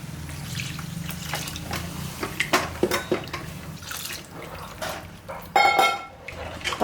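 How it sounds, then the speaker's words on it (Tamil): Water is poured into a cooker of jackfruit curry in a kitchen, giving splashing and trickling sounds with clinks of utensils, moderately close and intermittent. "இப்போ பாருங்கள், நான் இந்த அளவுக்கு தண்ணி ஊற்ற போகிறேன்."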